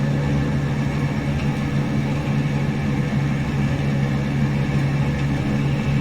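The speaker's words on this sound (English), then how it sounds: "redlining this engine here" An aircraft engine redlining in Microsoft Flight Simulator, a continuous loud drone with a strong steady hum that holds unchanged and close throughout.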